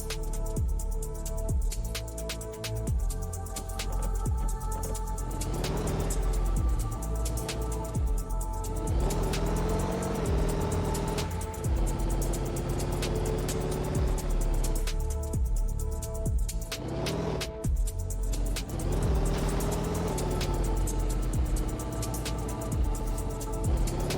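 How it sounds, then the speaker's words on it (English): A car doing a burnout in a video game still under development, its engine note droning steadily and rising and falling in pitch across the stretch with no talk over it. "it doesn't help that I was technically doing a burnout that entire time"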